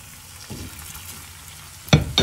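Colocasia (arbi) pieces tipped into a pan of fried masala, with a low sizzle throughout, a brief scrape near the start and two louder bursts of frying and stirring at the end.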